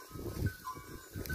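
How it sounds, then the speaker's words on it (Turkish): A lamb bleats briefly among a flock of horned sheep out on open pasture, a short close call over faint background noise. "Amasya bağda büyümüş bir kuzu."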